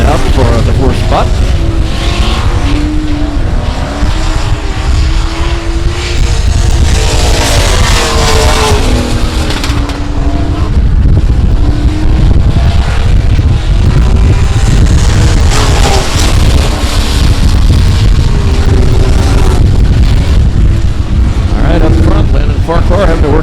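Race cars battle for position at South Texas Speedway, engines roaring continuously and loudly with rising and falling revs, under steady race commentary.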